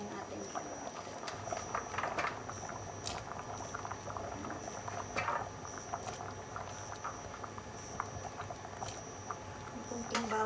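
Carrot being stirred into simmering arroz caldo, a bubbling pot with soft spoon scrapes and clicks, close and steady, no talk.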